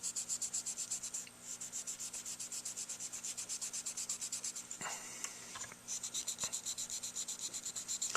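A vintage Buffet clarinet mouthpiece is rubbed with steel wool in fast, even back-and-forth strokes, a close rhythmic scratchy rasp that pauses briefly twice.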